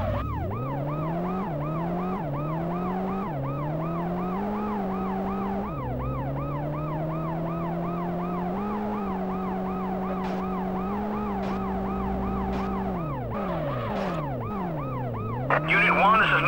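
An ambulance siren in the PlayStation game World's Scariest Police Chases, a loud continuous wailing that sweeps up and down in repeated cycles over a low engine drone.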